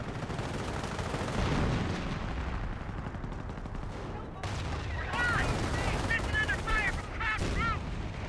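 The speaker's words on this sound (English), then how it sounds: "Our squad's firing away, a little bit open ground." Bursts of squad rifle and machine-gun fire crackle through a Company of Heroes battle, dense and continuous across open ground with chirping effects later, all in-game with no talk over it.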